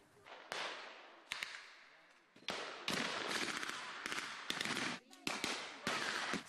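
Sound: gunfire at a WWII battle reenactment

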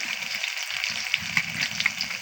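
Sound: onions frying in a pan

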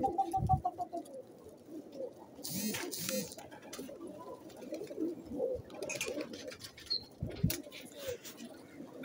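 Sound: pigeons on a pigeon farm

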